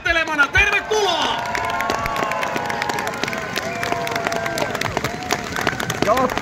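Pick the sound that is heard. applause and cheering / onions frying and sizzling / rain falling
applause and cheering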